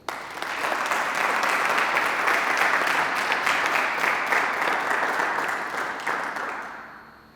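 A church congregation breaks into sustained, loud applause in praise of the Lord, a dense wash of clapping that swells quickly, holds steady for several seconds, then fades out.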